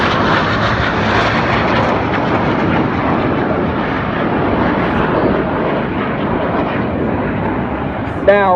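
Red Arrows synchro pair jets flying low over an air festival, a loud continuous broadband roar filling the whole span at steady strength, with a brief sharp squeal near the end.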